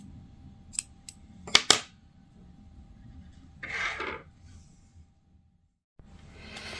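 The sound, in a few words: cutting crochet yarn with scissors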